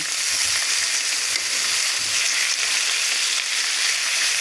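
Green beans cook in a hot pan, producing a loud continuous hissing sizzle that stays even from start to finish, with faint low knocks beneath and no voices.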